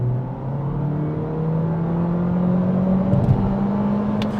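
A 2026 Honda Civic Sport Hatchback's engine drones and gradually rises in pitch as the car pulls away from a standstill and gathers speed, steady and close.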